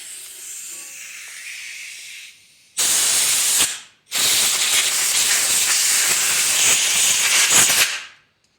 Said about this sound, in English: Once again, hook up your air hose.